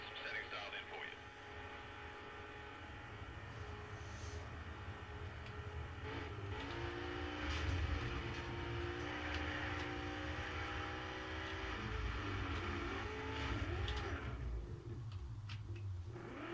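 A race car in a racing game roars through a practice lap, its engine drone steady and rising through shifting gear tones for the whole stretch, with a voice speaking now and then.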